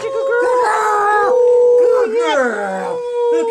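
A female search dog working a scent trail lets out long, loud, wavering howls close by, rising and falling in pitch over several seconds, with brief yips between the drawn-out notes.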